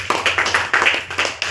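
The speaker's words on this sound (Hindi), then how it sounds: "I&S के लिए एक जोरदार तालियां चाहूंगा आप लोगों से" An audience at a business talk gives a short round of applause: several sharp, close claps come in quick uneven bursts over about a second and a half.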